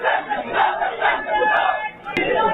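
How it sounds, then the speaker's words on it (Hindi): A crowd gathered around a Hindu temple in Kanpur chants slogans in loud, rising and falling waves of massed voices, with rhythmic shouted bursts and a dense babble filling the gaps. "मंदिर के इर्द गिर्द भीड़ ने इकट्ठा होकर ये नारे लगाए।"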